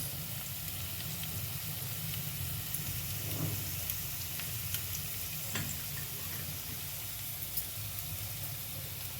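Tempering for spinach dal (palakura pappu) crackles quietly in hot oil, a soft, steady sizzle with a few faint pops and clicks, no voices.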